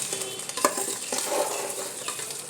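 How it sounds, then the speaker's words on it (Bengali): Raw rice being fried in a pan for pulao, with a soft sizzle under scraping stirs and a few sharp clinks of a utensil against the pan. "এটা ভালো করে একটু ভেজে নিচ্ছি চালটা"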